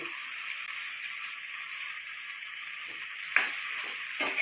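Okra dropped into oil with frying chillies and curry leaves gives a steady, fairly quiet sizzle, with a few soft stirring knocks near the end and no voices.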